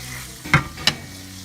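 Broken-up anchovies and garlic frying in olive oil for aglio olio pasta, a close, even hiss with two quick scraping stirs, and no voices.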